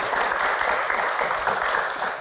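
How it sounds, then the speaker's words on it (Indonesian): Studio audience claps warmly for conductor and composer Addie MS during a talk-show Q&A, a short, even burst of many hands at moderate loudness. "tepuk tangan dong buat Mas Adi"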